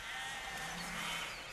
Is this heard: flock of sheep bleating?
yes